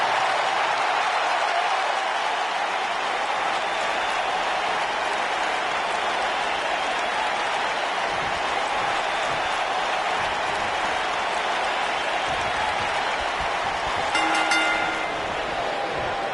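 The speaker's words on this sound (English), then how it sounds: "this crowd is ready to get this night started" Roaring arena crowd in the WWE 2K19 wrestling video game, a steady dense wash of cheering and noise that holds loud and even throughout, with a brief horn-like blast near the end.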